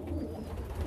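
Homing pigeons coo softly inside a loft, a low murmuring burble that is close and continuous over faint background noise.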